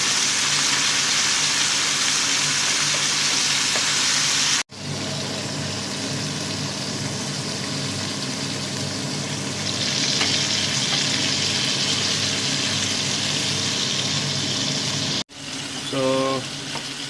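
Beef steak frying in a hot pan at home, a steady loud sizzle throughout, broken by brief gaps and light scraping as the meat is flipped.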